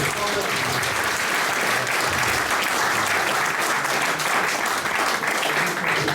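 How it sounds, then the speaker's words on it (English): Sustained applause from a crowd, steady dense clapping filling the whole stretch with a voice faintly underneath. "Give him a big round of applause."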